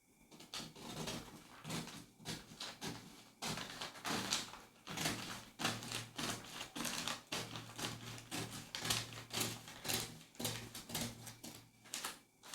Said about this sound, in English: I will cut from here down to my point D with my scissors like this.